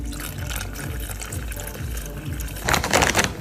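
Broth poured from a container into a pot while cooking a pumpkin dish, a steady liquid splash building louder near the end, with no talking.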